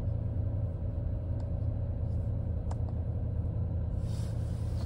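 The 5.7 liter V8 Hemi of a 2013 Jeep Grand Cherokee Overland rumbles at a steady idle, a low continuous drone with a few faint ticks over it.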